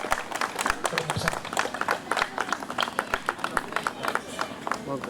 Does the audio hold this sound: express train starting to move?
no